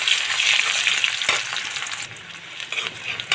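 Chopped onion frying in a pan for a prawn and spinach curry, a close, steady sizzle and crackle with occasional stirring scrapes, easing slightly partway through, with no voices.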